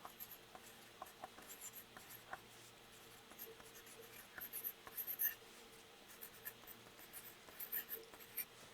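A pen scratches out notes on paper in quick, light strokes, faint and close, with brief pauses between bursts of writing over a quiet room hum and no talking.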